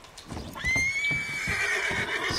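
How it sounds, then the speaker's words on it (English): A horse in Red Dead Online gives a loud, close whinny that rises and trails off, with soft hoof thuds underneath. "I'm going to get on my horse"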